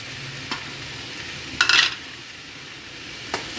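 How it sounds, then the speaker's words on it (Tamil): Masala being stirred into egg kothu parotta frying on low flame, a steady soft sizzle throughout with a few scraping stirs of a utensil against the pan and one louder clatter midway. "இப்போ நல்லா அந்த மசாலாலாம் மிக்ஸ் பண்ணிக்கலாங்க."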